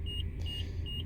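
Car seatbelt warning chime for an empty passenger seat, three evenly spaced electronic beeps over the low rumble of the car interior.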